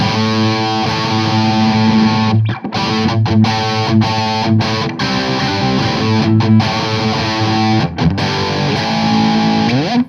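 Heavily distorted electric guitar through a high-gain tube amp playing sustained chords and notes, loud and saturated, with a few brief breaks between phrases.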